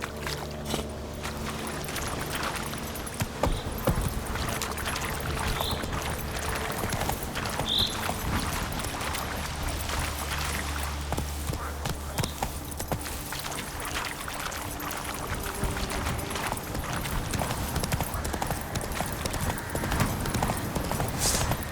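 Roach, the horse in The Witcher 3, gallops in a fast, steady rhythm of hoofbeats that is loud and close, lasting throughout over a wash of ambient game sound.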